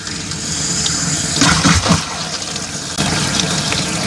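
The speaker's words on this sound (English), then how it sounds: "I only turned on the cold water up there." Cold water tap running through an RV water line, a steady close rush of flowing water with slight surges partway through, no voices.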